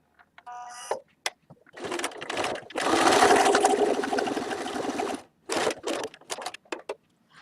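A sewing machine stitches a buttonhole in fabric, whirring steadily and close for about three seconds. Shorter bursts of stitching and brief beeps from the machine come before and after.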